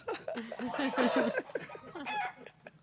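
A chicken clucks in a rapid, chattering run that goes on throughout, fairly close and at moderate volume.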